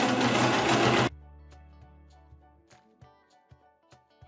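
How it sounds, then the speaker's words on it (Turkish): A home sewing machine stitches the other side of a 3D fabric face mask: a loud continuous run of fast needle stitching for about a second, followed by quieter intermittent clicks and handling thumps as the machine stops. "Diğer tarafı da dikiyorum."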